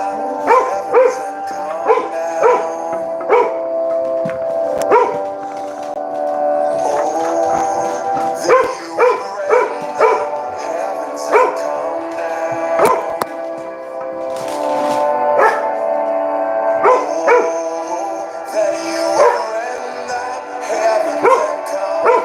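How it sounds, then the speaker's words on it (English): Several dogs barking and howling at length, sharp repeated barks punching through sustained, tonal howls, loud and close with no pause. "The dogs are going to go off."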